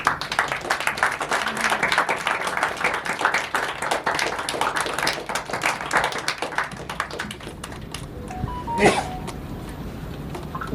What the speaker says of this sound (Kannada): ಎದ್ದು ನಿಂತ್ಕೊಂಡು ನಿಮಗೊಂದು ಚಪ್ಪಾಳೆ ಕೊಡೋಕೆ ಇಷ್ಟಪಡ್ತೀನಿ